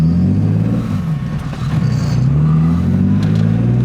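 A BMW E30 with a swapped S52 engine and individual throttle bodies, still not fully tuned, runs at full throttle, giving a loud, continuous low engine drone whose pitch dips and then climbs again.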